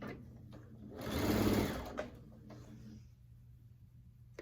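A sewing machine runs a steady quarter-inch seam across quilt fabric, a close mechanical whir that swells for a couple of seconds and then eases to a softer hum, with no voices.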